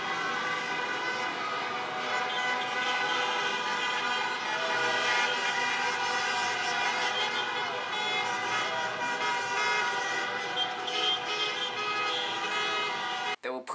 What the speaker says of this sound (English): Parades of people going around honking horns and celebrating in the streets.